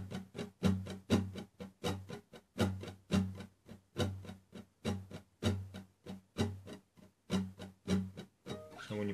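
Quiet acoustic guitar strumming in simple downward strokes with some strokes accented, a regular rhythmic pattern of strums heard alone and close up.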